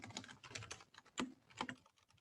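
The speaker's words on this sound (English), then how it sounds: "If y'all can hear me typing" Quick, irregular clicks of typing on a mechanical computer keyboard, close and fairly quiet, with brief pauses between bursts of keystrokes and no talking.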